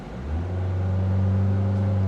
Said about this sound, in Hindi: थोड़ी सी पहले मैं आपको आवाज़ सुना देता हूँ आइडलिंग पे कि कितनी आवाज़ जो है गाड़ी के अंदर एंटर होती है।